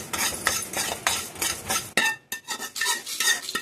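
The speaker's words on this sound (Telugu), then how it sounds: "ధనియాలు కూడా వేపుకోవాలండి." Coriander seeds are dry-roasted and stirred in a pan for a curry leaf pachadi, giving a steady, close rhythmic scraping and rattling with brief pauses and no talk.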